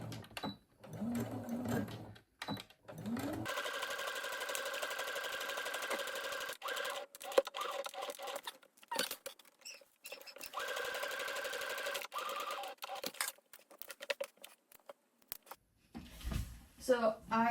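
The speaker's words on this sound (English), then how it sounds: "take it to the sewing machine and sew up those side seams" A sewing machine stitches the side seams of a bridesmaid dress in bursts of steady mechanical whirring, starting and stopping repeatedly, with a voice talking briefly at the start and end.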